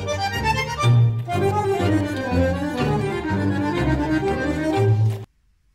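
Fast variación passage from a tango, with rapid, driving staccato notes over a pulsing bass, loud and full before cutting off abruptly.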